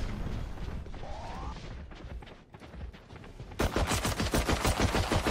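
Operator sniper rifle firing in the Valorant video game, heard as sharp, loud, rapid repeated shots that erupt partway through after a quieter stretch of game sounds.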